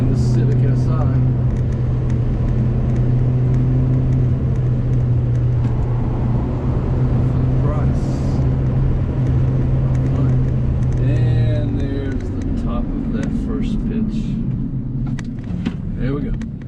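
A 2023 Kia Forte GT with a six-speed manual driving a twisty road, steady engine drone and road rumble from inside the cabin, the pitch dropping as it slows near the end.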